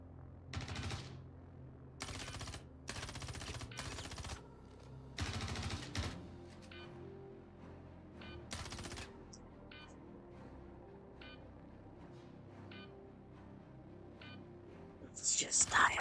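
Gunfire in the Star Citizen video game hits the player: several bursts of loud, rapid rounds in the first seconds, then sparser single shots spaced out, ending with a sharp high burst of sound.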